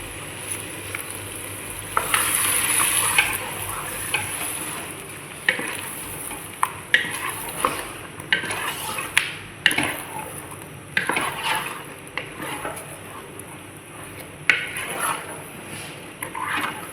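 Onion and cashew nut paste stir-fried in a pan for a Reshmi chicken curry: a steady sizzle broken by repeated scraping and stirring strokes, close and moderately loud, with no voices.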